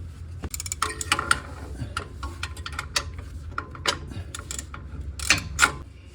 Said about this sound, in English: So I'm gonna tighten these up a little bit more right there.